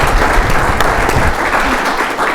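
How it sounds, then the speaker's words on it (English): A breakfast meeting audience breaks into applause, loud, dense clapping that stays steady from start to finish. "let's give these folks a round of applause"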